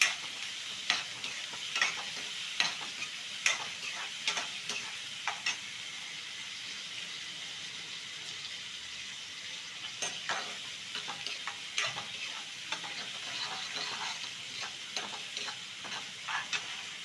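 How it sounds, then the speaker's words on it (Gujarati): Chopped onions sautéing in a pan for a Gujarati sheeg bhajiya curry, a steady soft sizzle throughout with regular sharp scrapes of a spoon stirring, close and without talk. "કાંદા નાખી દઈએ નાના નાના બરાબર શેકાવા દે"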